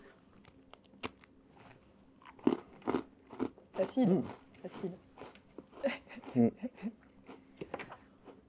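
Someone bites into and chews a crunchy waffle up close, with crisp crackling bites between brief murmurs and short spoken remarks.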